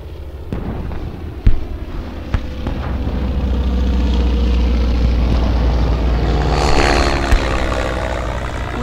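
A Japanese military aircraft drones overhead in a wartime setting, its engine roar swelling and peaking before fading, with sharp bangs and thumps scattered through it.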